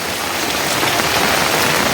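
Heavy monsoon rain pours down in a dense, steady hiss of drops striking surfaces, loud and unbroken throughout with no voices.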